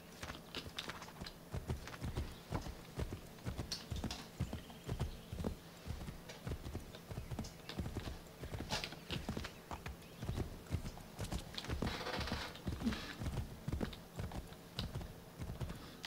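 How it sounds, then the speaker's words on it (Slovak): Horse hooves clip-clopping steadily in Assassin's Creed 3, a continuous brisk rhythm of hoofbeats throughout, fairly quiet with game ambience behind. "kone nie sú zrovna stealth zvieratá"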